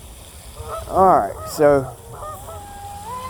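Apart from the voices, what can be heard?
geese honking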